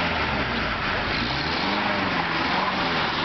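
A small buggy engine drones steadily as the buggy climbs, a loud continuous rumble heard close with no distinct rev peaks.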